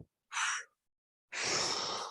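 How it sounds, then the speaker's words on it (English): Forceful exhale during a seated chair yoga fold: a short breathy puff, a pause, then a longer, louder blown-out breath, close and alone without talk. "Blow that breath out."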